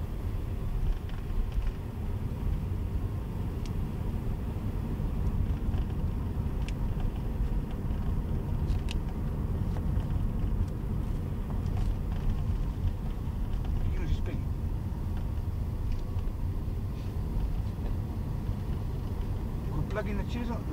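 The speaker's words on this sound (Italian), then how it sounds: "La macchina non si spegne." A car engine keeps running steadily, a continuous low rumble close by, with voices talking throughout.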